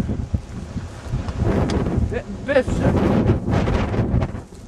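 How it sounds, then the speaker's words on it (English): Strong winter storm wind roars and buffets a microphone outdoors during a December 2010 storm, loud and constant with gusty surges, while a person talks underneath. "It's not so much that it's snowing heavily, it's that the wind."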